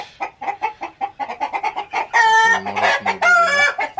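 A rapid run of rhythmic clucks builds into loud, close crowing from large Sonali super hybrid roosters weighing over five kilograms each, two long crows back to back.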